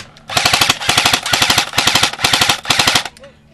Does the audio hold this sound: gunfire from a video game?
yes